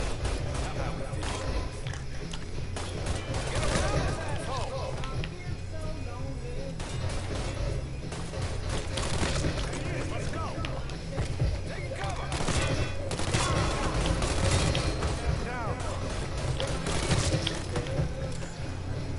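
Gunfire in the Mafia III video game, repeated sharp shots and bursts with breaking and shattering debris, loud and sustained throughout, with voices talking at times in the mix.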